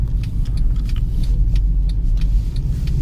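A 2012 Mercedes-Benz C63 AMG W204 with a transmission fault rolls forward in second gear, its engine giving a deep, close rumble with light clicks and rattles over it.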